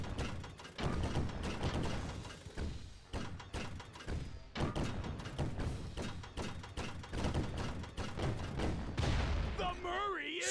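Heavy cannon fire from the Murray in the video game Sly Cooper: Thieves in Time, a dense stream of booming thuds and blasts that runs nearly the whole time, with a short whooshing effect at the end.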